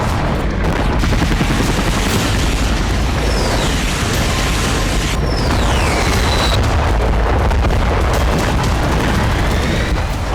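Aerial bombing in the Russia-Ukraine war produces a loud, continuous barrage of explosions and booms, with faint whistling or whining tones rising and falling above the constant roar.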